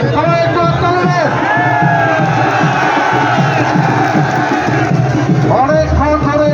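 A large, loud crowd cheers and shouts continuously at an outdoor wrestling bout in Chattogram, with dense babble and whoops and some clapping mixed into the roar.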